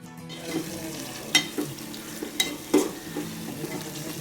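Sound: eggs frying in a pan

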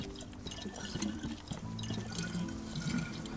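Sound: refilling a water bottle in DayZ video game

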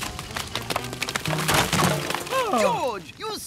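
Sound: cartoon smash into a termite mound

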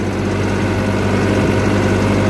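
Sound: tractor engine running

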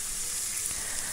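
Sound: potato and spice masala sizzling while sautéed in oil

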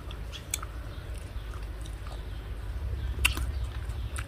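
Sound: chewing marian plum and mayongchid fruit

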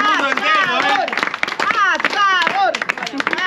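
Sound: crowd applauding the grill master at an Argentine barbecue

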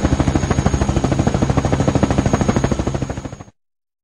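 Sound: helicopter

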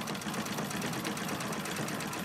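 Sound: machine running, started by turning its hand wheel

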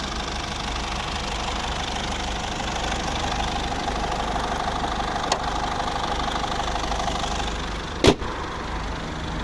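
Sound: Mercedes Vito W638 2.2 CDI diesel engine idling

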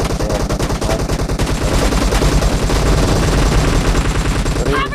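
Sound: gunfire spray from a video game

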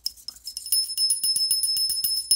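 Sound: bell struck by a micro servo mechanism

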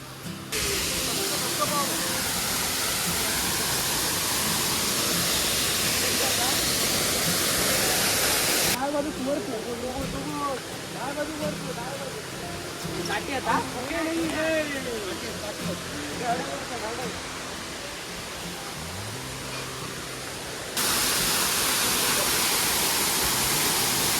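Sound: waterfall

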